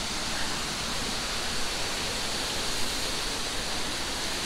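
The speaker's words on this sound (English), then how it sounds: "check out this water fountain feature" Steady splashing of a water fountain feature at a UK garden centre, a constant broadband rush with no pauses, fairly close and even in level.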